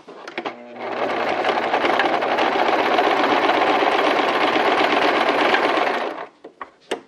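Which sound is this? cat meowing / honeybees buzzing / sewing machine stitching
sewing machine stitching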